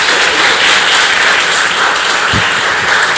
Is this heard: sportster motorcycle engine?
no